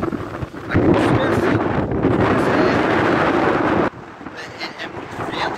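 Strong, cold wind at Praia Santa Helena beach in Torres, southern Brazil, gusts loudly across the microphone as a heavy, roaring rumble that drops abruptly to a lighter buffeting near the end.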